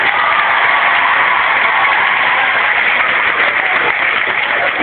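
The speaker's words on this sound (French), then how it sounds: "Applaudissez les scouts." An audience in a hall claps for the scouts at a gathering with Father Guy Gilbert, a loud, continuous wall of applause holding steady without a break.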